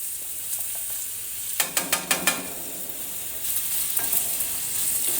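Potato pieces tipped into a pan of frying mixed vegetable curry with carrots: a quick run of five sharp clattering knocks over a steady bright sizzle that continues and swells afterward.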